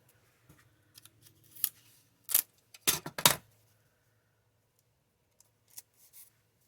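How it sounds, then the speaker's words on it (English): A roll of craft tape clanks and rattles on a crafting table during stamping work, a few scattered knocks and one brief cluster of sharp metallic clatters, fairly close and otherwise quiet. "this tape that you keep hearing clanking around"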